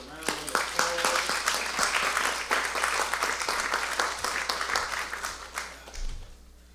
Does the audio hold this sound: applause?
yes